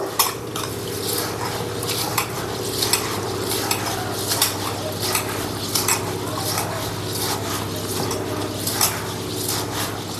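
Rice grains washed by hand in water, heard as a close, rhythmic swishing and scraping with repeated soft clatters over a steady low hum.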